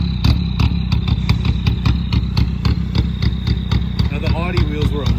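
A Volkswagen MK4 Jetta TDI diesel engine runs close by with steady rhythmic clatter and a sustained high turbo whistle above it, while a voice talks briefly near the end.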